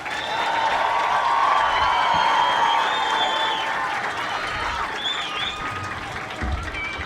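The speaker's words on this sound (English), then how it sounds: "One more round of applause for our graduates." Graduation ceremony audience applauding graduates, a broad sustained roar of clapping mixed with some cheering and faint whistles, full and steady across the hall.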